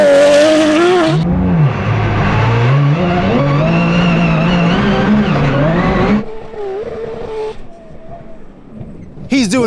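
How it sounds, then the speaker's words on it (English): A Porsche GT3 Cup race car on a dirt rally stage howls loudly through a long right hairpin, its engine note sweeping up and down with tyre scrabble, then dropping away to a quieter tone before a brief rise at the end. "Jeff's coming through the last few corners here, up over the big crest, into the long hairpin right."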